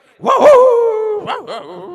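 A voice imitates two dogs fighting, producing a loud drawn-out growling bark followed by a couple of shorter yelping barks, close and alone over about two seconds.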